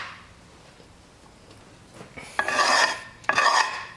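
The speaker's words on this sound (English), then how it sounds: "We get a gasket scraper." A gasket scraper scrapes an old gasket off a metal surface on an old engine, giving two loud, rasping strokes late in the clip after a quieter stretch of faint scraping.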